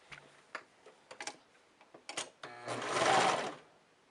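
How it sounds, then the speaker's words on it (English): An overlock serger set up with three threads, stitching a sleeve to a shirt bodice: a few short ticking clicks and brief whirs, then a louder sustained mechanical whir near the end, close and clear without talk. "what I'm going to do is stitch my sleeve to my bodice"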